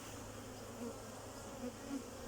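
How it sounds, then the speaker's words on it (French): A honeybee buzzes close by at a phone during a beehive inspection, a faint, steady drone that holds for a couple of seconds with slight swells, no voices heard. "Il y en a une abeille sur ton portable"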